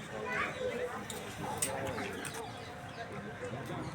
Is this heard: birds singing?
yes